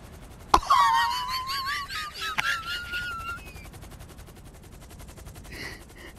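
Gunfire in Grand Theft Auto V, a sharp shot followed by a second crack, mixed with whining, wailing game effects that fade to a quiet hum.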